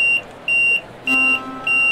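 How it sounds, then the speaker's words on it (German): Electronic warning beeps sound after the driver leaves the cab of a Southeastern High Speed train in Train Sim World 2: four clear, evenly spaced high tones, each about a quarter second long, repeating steadily over a quiet background hum. "das piept jetzt, weil ich ausgestiegen bin"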